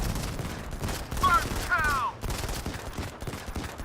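Distant gunfire in the video game Modern Combat 5 rattles in scattered bursts under steady game ambience and background noise.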